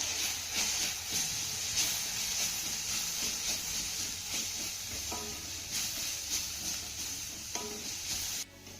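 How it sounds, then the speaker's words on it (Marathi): Vegetables stir-fried on high flame in a hot pan with black pepper make a continuous loud sizzle and hiss, with scraping spatula strokes and a few clinks, close up and without speech. "सर्व साहित्य आपल्याला पुन्हा दोन ते तीन मिनिटं हाय फ्लेमवरती परतून घ्यायचं आहे"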